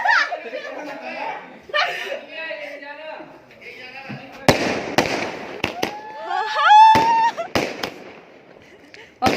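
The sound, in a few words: firecrackers set off on rooftop at night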